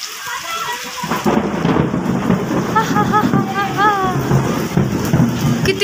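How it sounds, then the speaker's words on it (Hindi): Thunder rumbles loud and close during a heavy outdoor rainstorm, rolling over the constant hiss of rain. A person talks faintly in the background. "कितनी तेज आवाज आ रही है बिजली कड़कने की"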